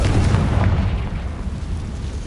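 In Hogwarts Legacy, a Confringo blast spell goes off as a heavy, booming explosion, a dense, steady low roar that fills the whole short moment with no quiet gaps.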